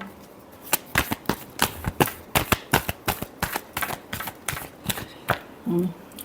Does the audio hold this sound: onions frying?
no